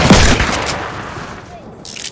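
Burst of hand cannon gunfire in a Fortnite trios match, a loud sharp shot at the start followed by softer game noise, with voices talking over the action.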